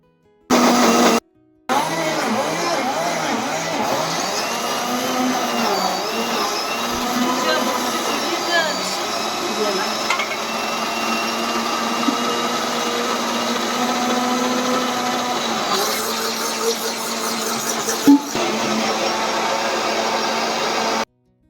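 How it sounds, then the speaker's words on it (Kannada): A kitchen mixer grinder whirs loud and steady, grinding soaked rice into a smooth batter for crisp akki sandige; the motor drones continuously for about twenty seconds after a brief start and stop. "ಈಗ ಇದನ್ನ ನುಣ್ಣಗೆ ಮಿಕ್ಸಿ ಮಾಡ್ಕೊಳ್ಳೋಣ ಬನ್ನಿ."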